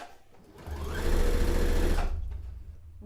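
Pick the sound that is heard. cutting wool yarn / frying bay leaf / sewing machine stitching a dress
sewing machine stitching a dress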